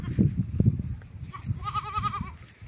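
A goat gives one clear wavering bleat midway, heard close on a farm where goats are fed corn cobs, over low rustling and knocking from the animals.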